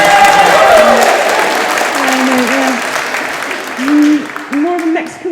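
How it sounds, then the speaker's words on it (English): Audience at a university conference applauding wildly, a loud sustained roar of clapping and crowd noise with voices and whoops rising above it. "please all, applaud wildly"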